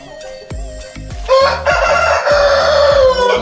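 A country-breed rooster lets out a loud, drawn-out crow close by, preceded by a few short clucks from the birds.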